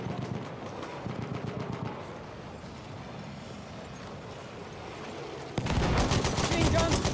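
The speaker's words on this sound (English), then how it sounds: "Machine gun! Watch it," Machine gun fire in the World War I shooter Battlefield 1, continuous rattling bursts with distant gunfire and battle din, then a sudden much louder, close stream of rapid shots near the end.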